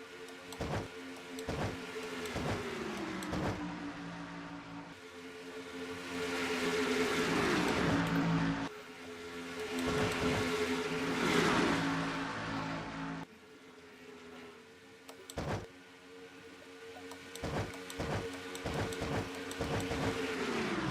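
Race cars in a NASCAR-style racing video game come down the front stretch, engines droning with rising and falling pitch as they pass in repeated waves, some louder and closer, some more distant.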